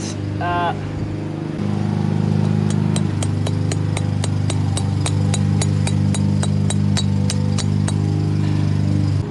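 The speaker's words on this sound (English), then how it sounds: "Neighbors are mowing their lawn." A neighbor's lawn mower drones steadily nearby, its engine hum holding a constant pitch while sharp, evenly spaced clicks sound over it in the foreground.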